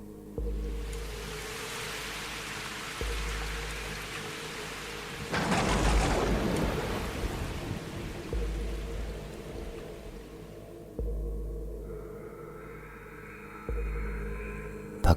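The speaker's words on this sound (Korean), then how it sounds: "밖엔 비가 내리고 있었죠." Rain falls outside as a steady, even hiss over a low hum. The downpour swells louder for a few seconds midway, then settles back, with no voices.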